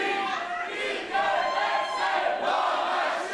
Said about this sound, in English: the crowd making their feelings known